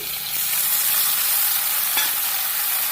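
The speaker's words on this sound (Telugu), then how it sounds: "బెండకాయలు చూసిన కదా ఫ్రై అవుతున్నాయి" Okra frying in a pan over a medium flame, giving a loud, steady, close-up sizzle with no pauses and no voices.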